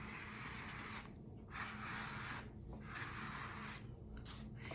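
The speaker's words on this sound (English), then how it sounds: "You can scrape it up" Paint being scraped off a wooden surface, repeated rough rubbing strokes in an uneven rhythm, close and fairly quiet.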